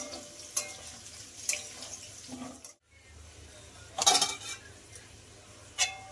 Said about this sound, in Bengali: আমি আলুটার মধ্যে একটু হলুদ দিয়ে দিচ্ছি, দিয়ে আলুটা ভেজে নেবো ভালো করে।